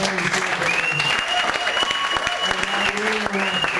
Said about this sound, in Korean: 관객들도 박수를 아끼지 않는다